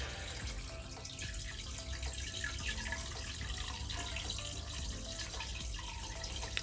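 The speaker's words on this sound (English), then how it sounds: "Now going to have some water back in." Dechlorinated water from a discus tank trickles and splashes quietly back into a planted aquarium, a faint, continuous pouring sound with no voices.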